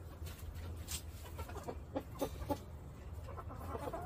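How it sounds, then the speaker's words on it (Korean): Chickens cluck excitedly in a coop after a change of surroundings, a few quick clucks standing out over a steady low background hum, fairly faint. "닭들도 환경을 바꿔주면 분위기를 아는지 지금 얘네들이 흥분해 있어요"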